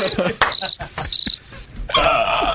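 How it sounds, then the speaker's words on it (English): A recording of crickets played back on a radio show, shrill chirping in short bursts between thumps and muffled studio noise, ending in a denser chirping run. "play the crickets"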